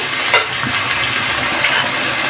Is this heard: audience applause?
no